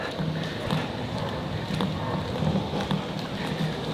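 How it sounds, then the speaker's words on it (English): Steady, dense rainfall patters continuously, a close hiss of drops with faint scattered taps underneath and no pauses. "The rain is getting heavier."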